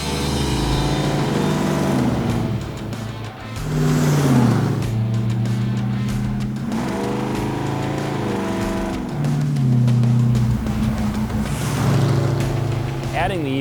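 Classic car fitted with an Edelbrock E-Force universal supercharger driving on a road, engine droning and rising in pitch through gear changes, steady and fairly close, with speech over it.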